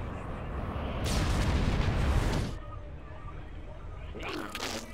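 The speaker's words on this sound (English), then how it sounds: "Another missile incoming." Missile strike explosion in StarCraft 2, a heavy rumbling blast lasting over a second that cuts off abruptly, followed by quieter game sounds and a brief later burst.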